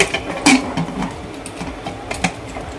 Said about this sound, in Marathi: कुकरचं झाकण बंद करून घेते.